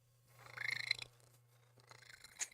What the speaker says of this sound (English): has a very loud, very strangled purr